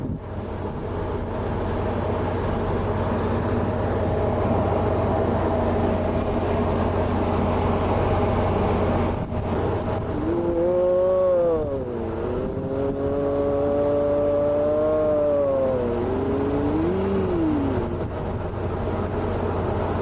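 Steady low engine rumble and wind noise aboard a ferry boat between Tahiti and Moorea, with a rising and falling horn-like tone partway through.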